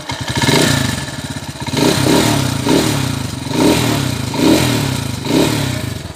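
A Honda TMX125 motorcycle fitted with a 200cc conversion engine idles and revs nearby with a sidecar attached, its loud, steady mechanical chug swelling in rhythmic pulses over a faint clatter.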